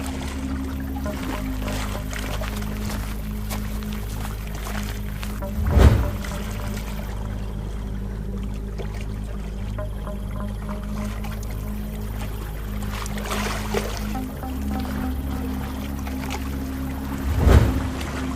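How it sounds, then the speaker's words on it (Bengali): A boat moves along a river current at night, a low steady engine-like rumble with faint water trickling and two brief louder swells, no voices heard. "নদীর স্রোত নৌকাটাকে গন্তব্যের দিকে টেনে নিয়ে চলেছে।"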